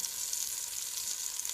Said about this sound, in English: So you can hear all the sizzling.